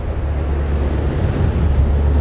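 Strong wind at sea on a boat near a ferry harbour roars steadily and loudly against the microphone, a continuous buffeting rush with no let-up.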